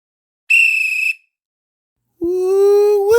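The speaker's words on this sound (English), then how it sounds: "You know what that whistle means." A sports whistle blown twice: a short, shrill high blast, then after a pause a longer, lower-pitched tone, loud and close with no talk.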